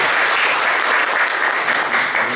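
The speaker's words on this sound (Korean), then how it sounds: "우리 박수로 마치도록 하겠습니다" A church congregation claps steadily and loudly after a prayer, dense applause filling the whole moment without pause.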